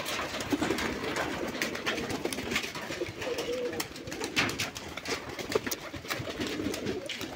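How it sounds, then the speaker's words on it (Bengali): Domestic pigeons, Golla breed, coo steadily outdoors in the morning after release from their loft, a continuous close murmur of overlapping low coos with no talk over it. "সকাল সকালে মুক্ত আকাশে কবুতরগুলি ছেড়ে দিলাম।"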